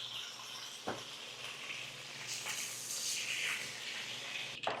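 Chili frying in hot oil in a home kitchen, a steady close sizzle with bursts of spitting and hiss that swell and fade, alone without talk.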